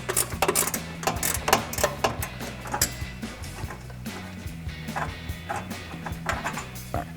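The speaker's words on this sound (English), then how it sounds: "We're going to get that off using our ratcheting wrench." A ratcheting wrench loosens a 10mm bolt under a GMC Sierra 1500 during a dual exhaust install, with rapid clicking bursts and metallic mechanism rattles repeating close up through the whole stretch, no talking.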